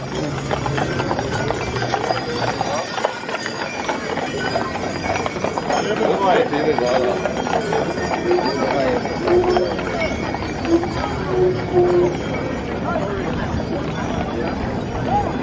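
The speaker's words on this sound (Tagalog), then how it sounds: "Tingnan nyo po ang kabayo." Hooves clip-clop on pavement as horses pulling a beer wagon pass by at Oktoberfest, mixed with crowd noise and voices talking throughout.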